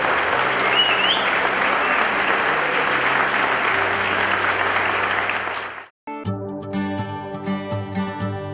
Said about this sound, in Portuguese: eu convido todos a acolhermos uma grande salva de palmas o novo